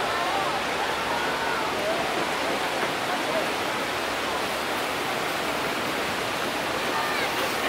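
Niagara Falls heard from a boat cruise, a loud continuous broadband roar of falling water that stays steady throughout, with a faint voice partly buried beneath it.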